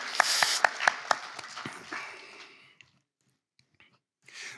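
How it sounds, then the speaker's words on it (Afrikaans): A lecture audience at a cultural gathering claps in a dense burst that trails off into scattered claps, then near silence with a brief murmur at the end. "Julle kan vir julleself 'n lekker hande klap gee, net omdat julle is."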